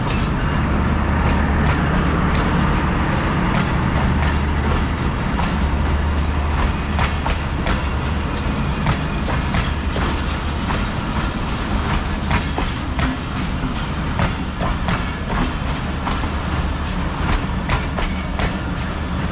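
A train moving at Gujrat railway station in Pakistan, with a loud, steady rumble and rhythmic clickety-clack of wagon wheels over rail joints. The sound is close and continuous throughout, with no voices.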